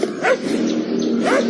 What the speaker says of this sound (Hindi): मीरा की रात के सपने की तरह ही पौमी सचमुच भौंकने लगा था।